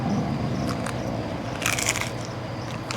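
A bite into crisp, non-soggy pizza crust drizzled with white truffle oil gives a short cluster of close crunches over a steady low background hum.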